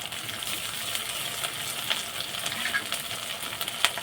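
Ground ginger, garlic and dried chilli paste frying in a pan for a mutton curry, giving a steady close hiss and crackle with a few faint scrapes of stirring, and no talking.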